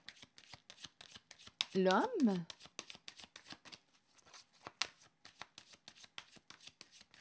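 Tarot cards shuffled and drawn during a card reading, a run of soft rapid riffling flicks and slaps close by, with a brief spoken word in a voice partway through.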